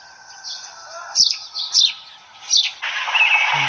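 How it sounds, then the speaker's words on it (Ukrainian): Sparrows chirping in winter, several bright short tweets and chirps in quick bursts, fairly close, with a steady background of other bird calls and no talking. "Горобці."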